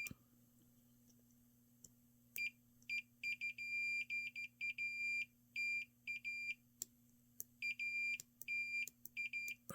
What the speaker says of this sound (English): Hear the click before the beep?